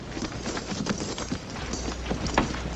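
Horses' hooves clip-clopping as a cavalry detail of soldiers halts and dismounts, irregular thuds and knocks shuffling over a dense, noisy background with no clear talk.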